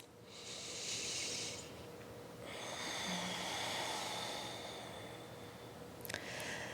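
Slow breathing during a gentle yoga stretch for the hips and lower back: two long, soft, airy breaths and the start of a third, close to the listener over a steady background hiss.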